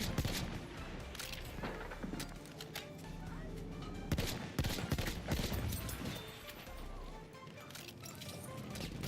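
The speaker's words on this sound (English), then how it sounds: "Feindliches MG da drüben!" Enemy machine gun fire in the video game Battlefield 1 rattles in continuous bursts and volleys, loud and close, mixed with other battle noise throughout.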